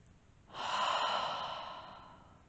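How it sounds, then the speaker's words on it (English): A single deep, close breath at the end of a yoga and meditation practice swells in and then eases out through the mouth, soft and airy, alone without talk. "we will finish with a cleansing breath out of the mouth together"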